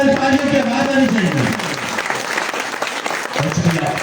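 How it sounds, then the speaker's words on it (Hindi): Crowd applause at a tape-ball cricket tournament prize ceremony, loud sustained clapping that continues for several seconds and then thins out, with a voice briefly over the start. "अगर टूर्नामेंट अच्छा लगा तो तालियों की आवाज आनी चाहिए।"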